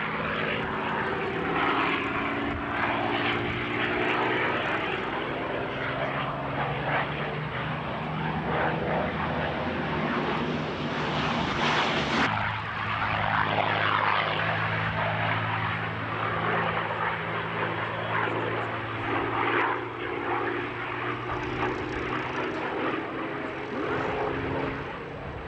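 A Bristol Blenheim light bomber drones overhead in flight, its propeller engines giving a continuous loud layered roar whose pitch shifts partway through, with no voices heard.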